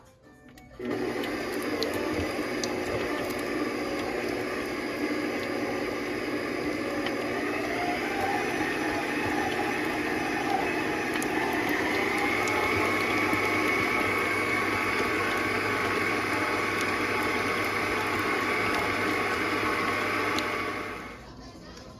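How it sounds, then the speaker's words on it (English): A stand mixer runs steadily at a low-to-medium speed, blending chocolate buttercream frosting ingredients for cupcakes. The motor whirs continuously and loudly for about twenty seconds and then cuts off. No one speaks. "I'm gonna go ahead and get started on my stand mixer and get my ingredients incorporated"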